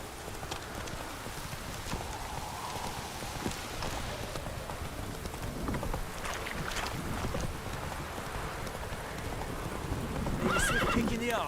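Roach, a horse in The Witcher 3: Wild Hunt, trots with steady clip-clop hoofbeats under continuous game ambience, with a whinny and a voice speaking over it.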